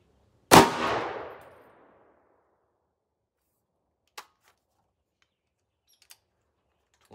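A .300 Blackout AR rifle fires a Lehigh Defense 85gr Xtreme Cavitator solid copper bullet into ballistic gel: one sharp, loud shot with a fading echo tail, then a few faint distant clicks.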